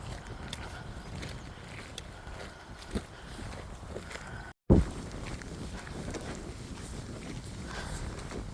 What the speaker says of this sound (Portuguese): Está com bastante vento